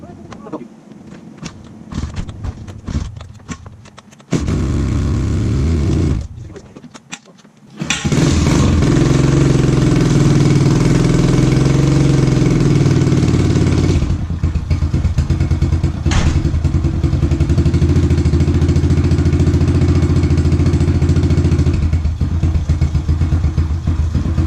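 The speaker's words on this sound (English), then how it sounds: "Well, we got the KLX running again, so sounds good." A Kawasaki KLX110 dirt bike is turned over and fires up after cam and timing setup, then idles loudly and steadily with a rough, raspy single-cylinder note, with clatter and handling noises just before.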